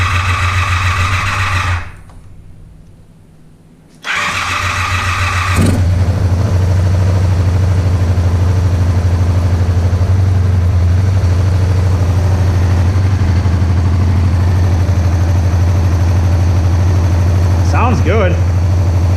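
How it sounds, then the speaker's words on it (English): Motorcycle engine with a quiet stock exhaust, an older machine just restarted after carburetor work, idling in a steady low loping rhythm close by, briefly dropping out early, then running evenly for the rest of the stretch. "It is so much quieter than mine with the Vance and Hines exhaust on it."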